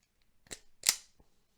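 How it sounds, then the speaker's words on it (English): Wire strippers close on electrical wire in a couple of quick snips with a crisp sliding crunch, close and quiet, followed by a faint small click, while setting up a model railway DCC power system. "just take my wire strippers there, put that in there, nice clean cut there, or strip of I should say"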